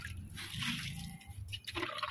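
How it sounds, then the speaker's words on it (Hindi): Water scooped out by hand and poured onto plants outdoors, a short soft splash and trickle, faint and close. "थोड़े से पानी को ही बारी बारी से निकाल रहे हैं."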